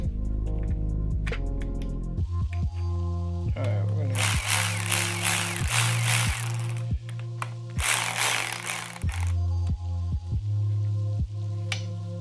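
Ratchet threading bolts into the timing cover of a 5.2 Magnum V8 engine, close-up clicking bursts in quick runs with brief pauses, plus two longer hissing bursts midway, in a workshop setting.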